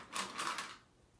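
Small sewing clip snapping onto fabric: two or three quiet, quick plastic clicks close together, then a faint room hush.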